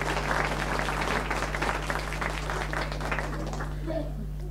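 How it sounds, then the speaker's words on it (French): Audience applause at a French radio broadcast event, a steady dense patter of many hands at moderate distance over a constant low electrical hum, with a brief voice near the end. "Je vous demande d'applaudir Jacques."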